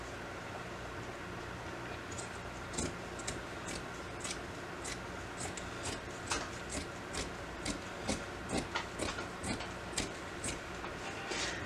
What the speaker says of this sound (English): you're going to want to cut this shirt into approximately thirds, making sure you cut through both layers of fabric.